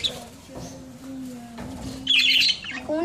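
Birds squawk loudly and repeatedly nearby, with a sustained tonal call line and a burst of harsher, brighter squawks toward the end; no speech is heard.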